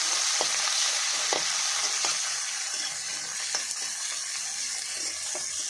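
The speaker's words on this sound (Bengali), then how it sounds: "এবার দিয়ে দেবো কুচিয়ে রাখা পেঁয়াজ পেঁয়াজটা একটু লাল লাল করে ভেজে" Chopped onions frying in oil for a Bengali jackfruit and prawn curry, giving a steady close hiss of sizzling with light stirring taps now and then and no talk.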